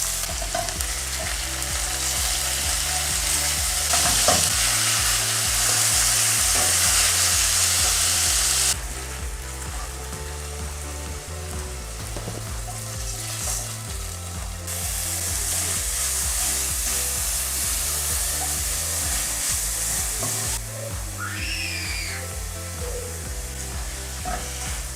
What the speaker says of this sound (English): I'll first start by dry frying the chicken so that the spices can stick on